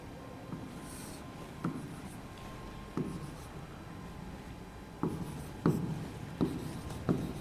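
Pen or chalk writing while influence lines of reactions are drawn on a board, with soft scratchy strokes and several sharper taps spread across the stretch over a steady low room hum.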